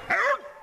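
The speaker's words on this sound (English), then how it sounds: "why is that dog barking?" A single sharp dog bark close by, short and loud, trailing off into quiet.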